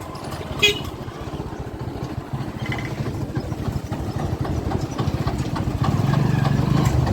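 A tractor engine idles steadily with a low, rapid chugging throb, close and continuous, growing slightly louder toward the end.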